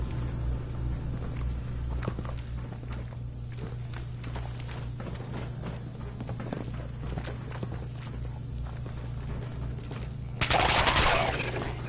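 Gunfire in Fallout 4 survival mode around Nuka World: scattered sharp shots and rattling bursts mixed with footsteps, moderately distant, then a louder noisy burst near the end.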